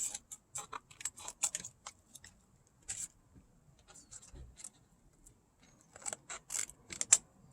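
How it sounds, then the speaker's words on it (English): Scissors trim excess paper around a stained glass arch, giving quick, close snipping and crisp paper rustles in irregular bursts with short quiet gaps between them. "I'm just trimming that extra paper around."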